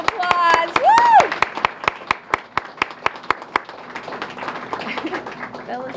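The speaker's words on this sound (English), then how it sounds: "Round of applause." Staff members at a school open house get a round of applause: a burst of vocal cheering up front, then a run of sharp, evenly spaced claps, with murmuring crowd noise underneath toward the end.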